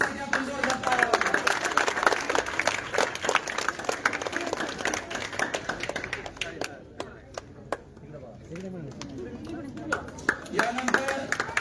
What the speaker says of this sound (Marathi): त्या ताईंसाठी आपण जोरदार टाळ्या वाजवा